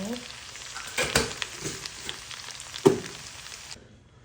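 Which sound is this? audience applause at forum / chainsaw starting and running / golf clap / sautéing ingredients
sautéing ingredients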